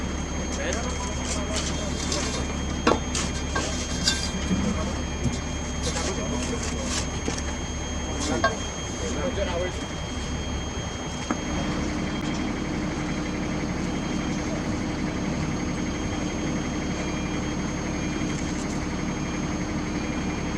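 A Scania truck engine warming up at idle gives a steady low drone throughout, with faint voices around it.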